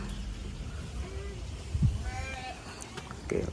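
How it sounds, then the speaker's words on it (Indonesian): Sheep bleating at an agro-education tourism farm in Serang, with a couple of faint, wavering calls from nearby animals mixed into outdoor background noise while people talk. "ada domba, Domba sound the sheep."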